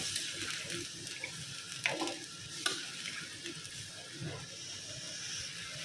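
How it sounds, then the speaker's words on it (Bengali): Broth hitting a hot pan of cooking vegetable curry, giving a continuous hiss and sizzle with light bubbling and a few soft knocks, close and steady throughout, with no voices. "বন্ধুরা তরকারিটা কষানো হয়ে গেছে এই ঝোলটা দিয়ে দিলাম"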